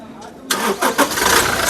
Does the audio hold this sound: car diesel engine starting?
yes